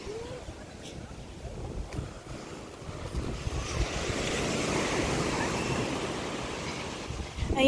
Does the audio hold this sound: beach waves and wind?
yes